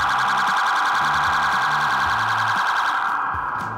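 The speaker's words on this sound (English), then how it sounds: "it also activates the emergency siren" A Florida Highway Patrol Dodge Challenger RT police car siren wails loudly, steadily and continuously close by, with a rapid warbling pattern and a low pulsing undertone.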